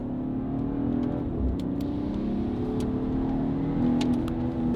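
BMW G30 540i with a Valvetronic exhaust, valves open, and stock downpipes, holding a steady throaty idle with a few mild rises in revs, close and loud with no talking.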